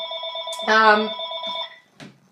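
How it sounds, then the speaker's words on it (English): A telephone rings in a rapid trilling burst, then sounds again briefly, fairly close. A person speaks over part of the ringing. "Oh, and that would be the phone."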